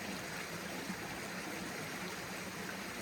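Water rushing steadily over gold prospecting equipment as it is rinsed out outdoors, a continuous broad hiss and trickle of moderate loudness with no voices and no clear breaks.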